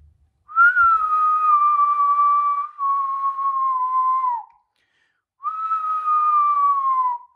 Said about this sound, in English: and this is super loud. I can whistle super,